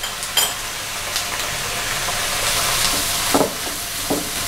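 Chicken stuffing sizzles steadily in a pan as soya sauce is mixed in, with a spoon scraping and clinking against the metal at intervals, close and continuous with no talking.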